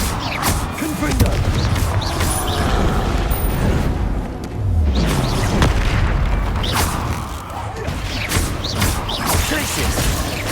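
Confringo blasting spell explosions in a Hogwarts video game: loud, close booming blasts that roll into one another and carry heavy rumbling through the whole span.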